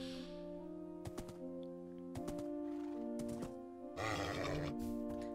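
A Minecraft horse whinnies in a shaky, high neigh over steady background music, mixed with several short clicking taps, close and moderately loud.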